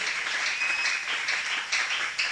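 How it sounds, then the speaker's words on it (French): Church congregation clapping and cheering for the Lord during a French-language worship service, a steady wash of applause without pause. "Est-ce qu'on peut maintenant acclamer pour le Seigneur?"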